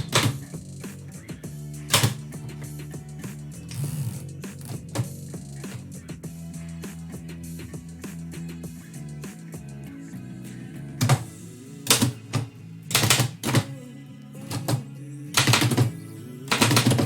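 A manual typewriter types poetry live in a steady patter of close mechanical key strikes, with several louder bursts of rapid clacks and carriage clunks toward the end.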